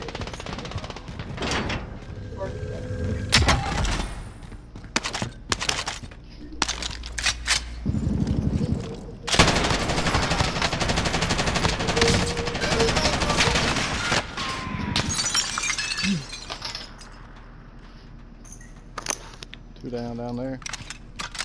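Gunfire in a video game, bursts of automatic shots and single cracks scattered across the clip, some loud and close, with voices talking between them.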